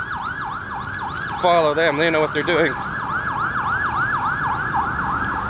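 Wailing ambulance siren sweeping up and down steadily on a busy street in Hua Hin, Thailand, loud and close throughout, with a brief burst of another siren tone and someone speaking partway through.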